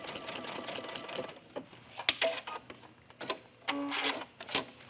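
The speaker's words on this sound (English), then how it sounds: "I'm sure you don't need to watch me sew 3 buttonholes" A sewing machine stitches three buttonholes on a Linda tunic in quick mechanical bursts with short pauses between them, close and moderately loud, with no voices.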